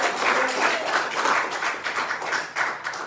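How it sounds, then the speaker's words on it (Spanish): A church congregation claps together, a dense, loud wash of rhythmic applause that fills the space steadily and swells in waves, with no talking over it. "Dele palmas a su Padre,"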